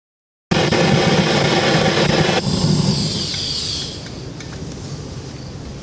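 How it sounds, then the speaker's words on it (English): A propane torch lit to start a smoker roars in with a loud, steady hissing blast that later drops to a softer, lower rush of flame, close up with no voices. "Now to light it, I usually use just a propane torch."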